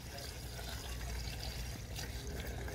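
Coolant poured through a funnel into a car's coolant reservoir during a heater core flush, a steady close gurgling trickle of liquid lasting a few seconds with no talk.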